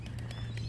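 Pigeons gather for breakfast at a home, giving soft, brief chirpy calls and faint flutters over a steady low hum, fairly quiet and close.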